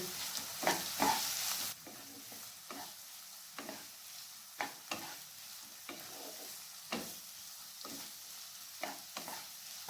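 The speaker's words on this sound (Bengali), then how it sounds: "আঁচটাকে হাইতে রেখে পেঁয়াজটাকে হালকা করে ভেজে নিচ্ছি" Finely chopped onions fry on high heat, a low, steady sizzle broken by regular scraping stirs of a spatula in the pan, close and fairly quiet with no speech.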